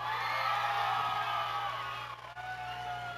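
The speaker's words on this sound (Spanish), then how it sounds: "El aplauso." An audience roars with sustained cheering and shouts at a Bailando por mi Barrio dance contest final at Pista La Purificadora, Ixtapaluca, loud throughout and dipping slightly near the end.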